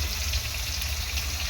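A little water splashes into a hot cooking pan of turmeric and chilli powder, giving a steady close hiss and sizzle with a bubbling wash throughout the short moment.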